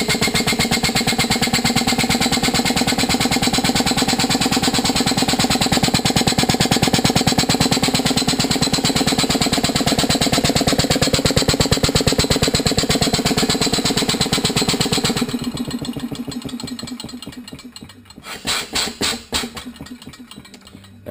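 A 2-stroke 50cc engine runs on compressed air from a shop compressor with a rapid, even mechanical chatter and hissing exhaust pulses, then slows and sputters to a stop near the end.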